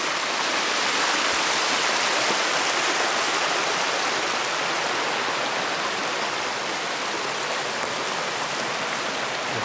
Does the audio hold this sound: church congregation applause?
no